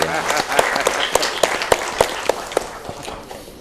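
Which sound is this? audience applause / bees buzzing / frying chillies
audience applause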